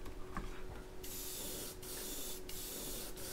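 Airbrush spray painting a bluegill-pattern fishing lure: faint hiss at first, then a sudden steady spray hiss cut by three brief pauses, close to the microphone.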